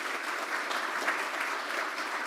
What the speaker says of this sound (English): Let's give Kathy a round of applause.